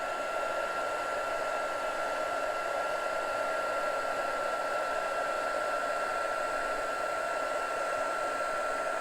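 A heat tool blows steadily to melt embossing powder, a constant close whirring roar with a high whine that never changes.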